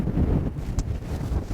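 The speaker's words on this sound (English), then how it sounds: "Just a little bit of a gust." A brief gust of wind while sailing a Hallberg-Rassy 40C cruising yacht, a loud low buffeting roar across the microphone with the rush of water beneath, steady throughout.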